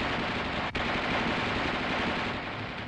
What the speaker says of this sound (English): The gunner continues to fire in 20 to 25 round bursts